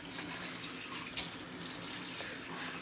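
A kitchen tap runs steadily into a sink while dishes are washed, a continuous close hiss of falling water with a brief splash partway through and no talk.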